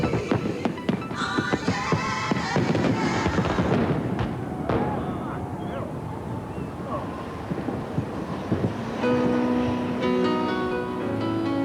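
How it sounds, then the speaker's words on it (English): Fireworks burst over Sydney Harbour on New Year's Eve 1997, a dense continuous roar of crackles and booms with wind buffeting the microphone and crowd noise underneath. "You are watching the fireworks over Sydney Harbour on New Year's Eve"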